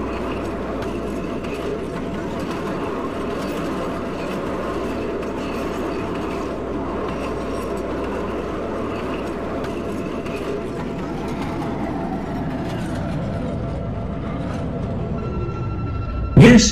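A CTA Series 5000 Red Line subway train in the Roblox train simulator hums and rumbles steadily on the run toward Roosevelt, then gives a short, louder squeal as it slows at the very end.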